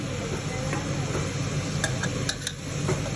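Chinese kale stir-fried in a pan gives a close hiss and sizzle, with scattered spatula clinks and scrapes against the metal, fairly quiet overall.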